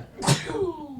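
A single sharp, close sneeze, loud and abrupt, with a brief trailing tail.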